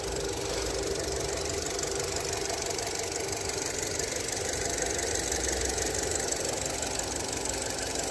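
The 1.6-litre engine of a 2018 Skoda Octavia with automatic gearbox runs with the hood open, giving a steady, dense mechanical idle with a faint ticking knock, heard close and alone for about eight seconds.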